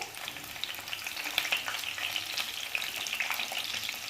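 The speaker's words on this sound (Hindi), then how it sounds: "अब इसको हम अच्छे से फ्राई कर लेते हैं हल्का सा चटा आने तक।" Onion and capsicum sizzle in a hot pan over high gas, making a steady, close crackle with small pops and no talking.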